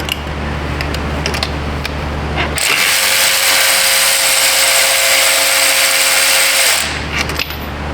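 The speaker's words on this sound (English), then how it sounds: "Let's pull the bolts out of this side of the intake." A ratchet or power driver removes intake bolts on a 2017 Subaru Outback, with a loud steady whirring burst of about four seconds between quieter clicking handling noises in a garage.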